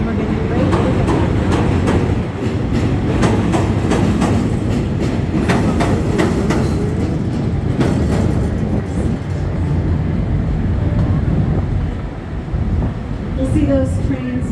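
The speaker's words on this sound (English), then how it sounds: "We'll see those trains pass probably another time or two during this tour." A train rolls past on tracks beside the Chicago River, loud and close, with rhythmic clickety-clack of wheels over rail joints under steady rumbling, fading somewhat near the end.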